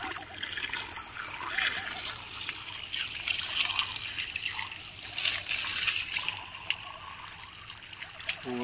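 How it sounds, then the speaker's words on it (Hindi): Steady rushing water pours at strong pressure, a continuous hiss with splashing, close by, with faint voices underneath. "ये देखिए पानी फुल प्रेशर से है"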